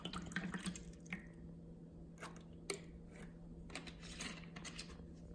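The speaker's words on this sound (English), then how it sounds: "Let's pour some water in." Bottled purified water trickles and splashes quietly into a cup, a soft continuous pour with small drips and clinks over a low steady hum.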